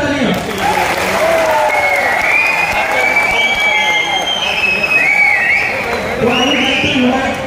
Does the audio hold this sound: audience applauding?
yes